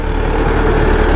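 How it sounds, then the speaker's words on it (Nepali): A tractor engine drones steadily on a mountain road near a landslide site in Nepal, a loud, close, low mechanical chug with a pulsing rhythm throughout the brief moment. "उताबाट ट्र्याक्टर आइरहेको छ"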